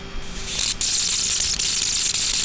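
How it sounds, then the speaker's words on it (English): A homemade high-voltage plasma ball gives off a loud, steady crackling hiss, interrupted by a few brief dropouts. "You can hear the plasma."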